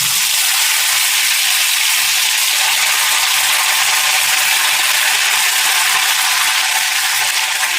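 A spice mixture for dried Bombay duck masala fries in two large spoons of hot oil in a kadhai, making a loud, steady, close sizzle with no pauses and no talking.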